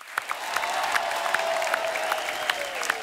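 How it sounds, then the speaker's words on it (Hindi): Studio audience applause on a comedy talk show, a continuous crowd clapping with scattered louder claps, while a sustained tone, likely music, runs underneath. "जोरदार तालियां हो जाए इनके लिए।"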